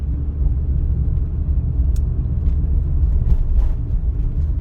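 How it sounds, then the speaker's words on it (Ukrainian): A car pulling out onto a road, heard as a steady, loud low engine and road rumble that continues evenly throughout. "Виїжджає автомобіль, будьте обережні"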